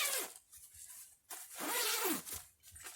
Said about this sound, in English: It has good zippers that can be completely unzipped